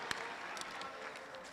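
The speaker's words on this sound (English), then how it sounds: "A big round of applause for the SRC of" An audience at a student council inauguration ceremony applauds, a soft, distant, continuous patter of clapping heard for a brief moment.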